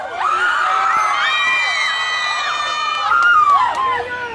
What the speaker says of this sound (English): This is the biggest crowd I've seen in like 3 years.